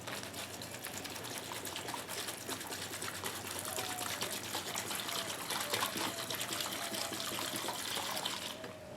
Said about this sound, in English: Then I get my container of citronella torch oil.